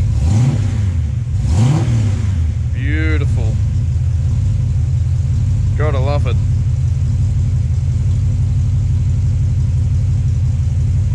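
A new 450 hp Ford 351 Cleveland V8 idles steadily at about 1000 RPM in park, a loud low rumbling drone throughout, with brief voices speaking over it.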